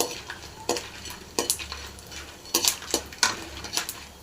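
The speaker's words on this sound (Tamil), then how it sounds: "இப்போது எண்ணெய் காஞ்சினா போட போகிறோம், வறுத்து அப்படியே எடுக்க போகிறோம்." Dried turkey berry (sundakkai) vathal stirred and fried in hot oil, with a steady low sizzle under repeated sharp scrapes and clinks of a metal utensil against the pan, close and fairly loud.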